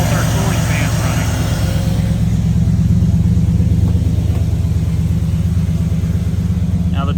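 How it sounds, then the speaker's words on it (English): Dual electric cooling fans on a car run steadily with the AC on, giving a loud, constant whooshing rumble with a low droning hum that holds throughout without a break. "We got both our cooling fans running."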